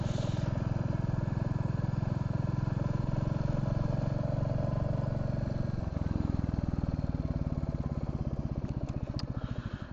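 A Bullet motorcycle thumps along while being ridden, its single-cylinder beat a steady, loud, close rhythm that shifts pitch midway, as if changing gear, and then rises toward the end.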